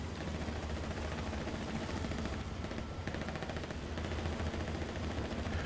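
Video game gunfire in Battlefield 4: rapid bursts of automatic weapon fire crackle continuously over a dense, rumbling battlefield background, moderately loud with no talking.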